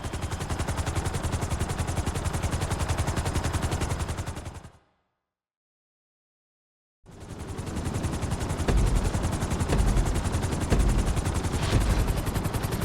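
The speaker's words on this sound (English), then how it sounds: "we're going to put you in a helicopter for this lesson" Helicopter rotors in the game GTA V during a flight-school lesson: a dense, steady, loud chopping roar that cuts out completely for about two seconds, then returns just as full and continuous.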